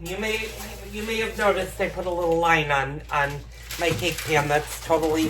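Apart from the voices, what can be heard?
No everyday noise stands out behind the speech.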